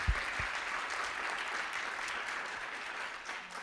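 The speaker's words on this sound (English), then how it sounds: "that's an applause." Conference attendees at an accessibility summit clap in a soft, distant, steady wash that lasts a few seconds after a thank-you.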